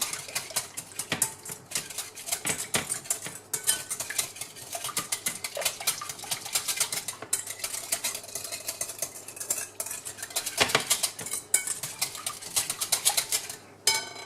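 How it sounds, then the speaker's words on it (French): A whisk beats crème fraîche with gruyère and lardons in a bowl for quiche lorraine, giving rapid, steady metallic clinks and scrapes that carry on throughout. "Alors je rajoute ma crème fraîche. Je fouette bien."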